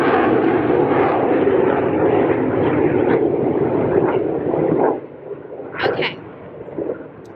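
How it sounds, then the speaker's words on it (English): Military fixed-wing aircraft from a nearby naval base roar overhead as a loud, broad engine drone that holds steady for about five seconds, then drops away sharply, leaving faint residual noise. "I live really close to a naval base, so they're constantly flying the airplanes all around"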